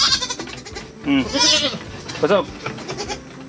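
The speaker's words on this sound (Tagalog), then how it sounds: "Very healthy na kambing." A healthy, well-grown goat on a farm bleats a couple of times, its wavering calls standing out clearly amid nearby people talking.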